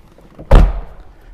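A TVR car door shuts with a single loud, low thud that decays quickly, heard close up on its own with no talking.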